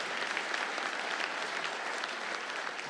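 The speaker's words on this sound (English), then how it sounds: "a quick round of applause" Audience at the Blues Hall of Fame induction ceremony giving a quick round of applause, a dense, steady burst of clapping heard throughout at moderate loudness without talk.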